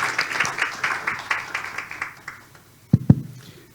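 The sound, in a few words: audience applause for the speakers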